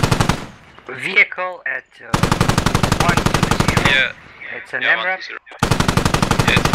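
Heavy machine gun fire in the Squad video game: loud, rapid, tightly spaced bursts that repeatedly stop and start, with voices talking in the gaps between volleys.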